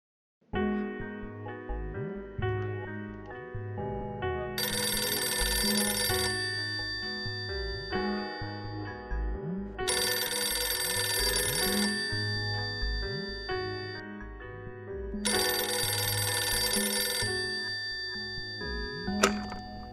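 A phone ringtone plays a repeated electronic melodic pattern for about twenty seconds, loud and steady with brighter chiming bursts at regular intervals, and no voices over it.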